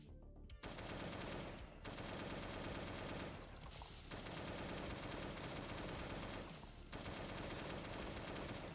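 Dense, loud automatic gunfire from a first-person shooter game, with the bunker fight running in long sustained bursts broken by a few brief pauses, close and continuous.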